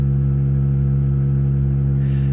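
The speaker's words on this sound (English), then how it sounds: "So the air compressor just happened to kick on" A loud, steady mechanical hum with a low droning tone runs unbroken from an air compressor running nearby.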